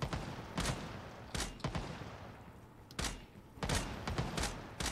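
Gunfire in the shooter game Lost Light, including sniper rifles: several sharp, loud shots and short bursts crack out at irregular intervals over a quiet background.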